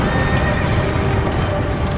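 A two-headed horse in the video game Dark Souls 2 whinnies loudly and close, a drawn-out neigh over dense, steady background noise.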